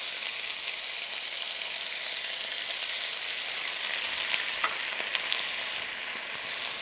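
Beef stir fry sizzles steadily in a hot pan, a constant close hiss with a few faint spits and crackles toward the end.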